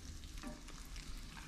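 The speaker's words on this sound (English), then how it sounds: "You want a slow sizzle," Steady, gentle frying sizzle from a whole fish in a pan over medium-low heat, a soft continuous crackle with occasional faint pops, fairly quiet and close.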